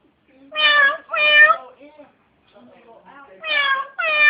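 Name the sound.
parrot imitating cat meow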